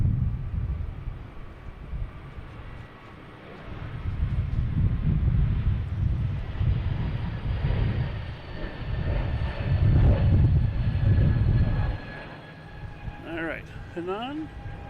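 A Hunan Airlines airliner landing at Boston Logan rumbles in swelling waves of jet noise with wind buffeting, rising and fading several times, while a voice talks over it and a brief chirp ends the clip.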